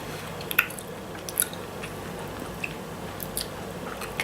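Close, soft chewing of chewy vanilla fudge chunks from a snack box, with faint moist squishing and occasional small clicks, steady and quiet with no talking.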